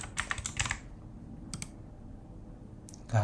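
Quiet clicking of computer keyboard keys in short bursts of typing, with a pause in the middle and a louder clatter of keystrokes at the end, close and clear.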